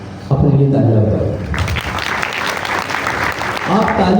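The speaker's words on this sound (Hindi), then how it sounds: "अपने लिए तालियां बजाएं।" Students in a classroom applaud for themselves, a dense burst of hand clapping that starts suddenly and keeps going loud and close, with a voice talking over it.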